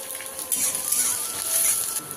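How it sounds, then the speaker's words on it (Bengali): Onions frying in a pan for Bengali atta noodles, a bright, steady sizzle with soft bubbling pops close up and no talking. "এবার দেব পেঁয়াজ একটু লাল লাল করে ভেজে নেব"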